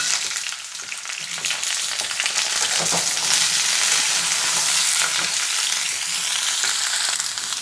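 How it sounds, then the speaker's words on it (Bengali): Mixed vegetables, including raw green banana, fry in a pan for a neem jhol while being stirred, making a loud, dense hiss of sizzling with scraping and clattering from the utensil throughout. "সবজিগুলো নাড়াচাড়া করে নিয়েছি"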